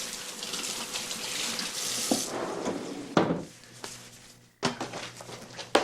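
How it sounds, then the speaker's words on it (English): A splash of water hitting a hot pan of crisping bacon, a rushing watery hiss with a few sharp clanks and knocks, settling into a quieter sizzle before another burst of hissing. "the best way to crisp bacon is to add just a little splash of water to the pan"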